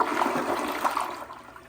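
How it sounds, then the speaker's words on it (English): A Kohler Cimarron Revolution 360 toilet flushes after a chain adjustment, giving a close, steady rush of water that holds level, then thins and softens toward the end of the short burst. "that's definitely improved the flush volume"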